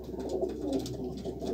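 Racing pigeon chicks from pure Cavaleriu stock coo softly and steadily in a loft, a low continuous murmur of overlapping calls throughout.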